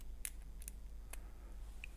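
Picking a Saspes lock, with a few tiny, faint metallic clicks close by as pins set under tension, spaced irregularly over a quiet background.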